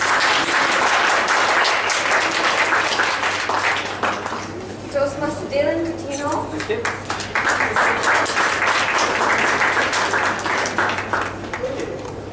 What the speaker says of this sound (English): Let's give them a round warm applause